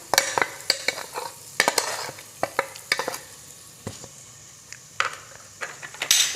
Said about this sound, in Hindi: इसे मिक्स करना है हमें।